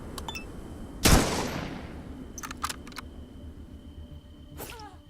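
A single sharp gunshot from a firearm in the game Atom RPG, with a few faint clicks and small effects around it against a low background.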